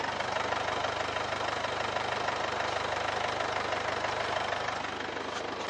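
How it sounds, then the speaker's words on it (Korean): A Mercedes-Benz C-Class engine idles steadily and smoothly, a constant close hum with a faint rhythmic ticking and no voices. "바로 엔진 소리 한번 들려드릴게요."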